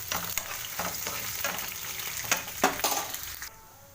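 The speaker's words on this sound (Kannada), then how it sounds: "ಇನ್ನೇನು ಈ ಕಡೆ ನೋಡಿ ಒಗ್ಗರಣೆ ಬೇಯ್ತಾ ಇದೆ" Oggarane tempering sizzles and crackles in a frying pan, with a steady hiss broken by several bursts and clinks as a spoon stirs it, then dropping quiet at the end.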